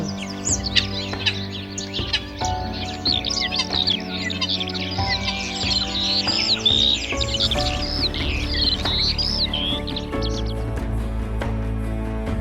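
Starlings chirp and warble in a busy, high-pitched chorus over a soft musical backing, the calls rising and falling continuously.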